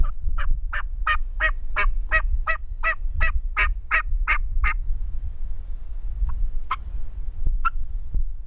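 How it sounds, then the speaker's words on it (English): A wild turkey gobbles in a fast series of about a dozen loud, ringing calls, then falls quiet apart from a few faint, distant bird notes over a low background rumble. "sit and listen and hope that we hear a bird gobbling close by us."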